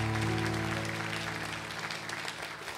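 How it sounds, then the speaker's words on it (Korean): Congregation applause at a Yeouido Baptist Church New Year's Eve service, with dense clapping over a sustained organ or keyboard chord. The clapping starts full and eases off slightly while the music holds underneath. "2023년도 우리 하나님께 영광 박수 올려드릴까요?"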